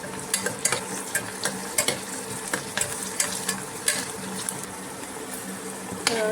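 Onions sauté in oil on an induction cooktop with a soft, quiet sizzle broken by irregular small crackles and light clicks.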